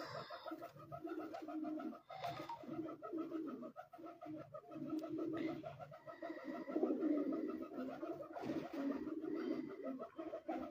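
Racing pigeons coo on a rooftop in Punjab, soft overlapping burbling calls from several birds that carry on continuously at low volume.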